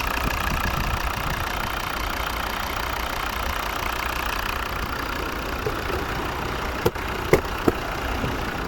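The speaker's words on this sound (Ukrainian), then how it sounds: "Двухлітровий п'ятициліндровий вольвовський двигун." A Volvo V50 D3 two-litre five-cylinder engine idles steadily and close, a continuous even drone with a few sharp clicks near the end.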